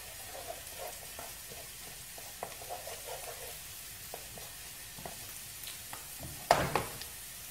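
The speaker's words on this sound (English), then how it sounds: "Stir that in." Chicken livers with garlic being stirred in a frying pan, soft steady sizzle with scattered scraping stir sounds and one louder clatter near the end, no voices.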